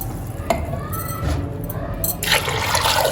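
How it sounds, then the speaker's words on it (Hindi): Two glasses of water poured into a cooking pot while making shami kebabs, a splashing, sloshing pour with a brief clink early on, ending in a louder gush of water. "मैंने इसमें 2 गिलास पानी के ऐड कर दिए हैं।"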